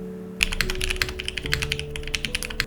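Close, crisp typing on a mechanical keyboard with Holy Panda tactile switches, a quick run of poppy clacks in an irregular rhythm over a faint background hum.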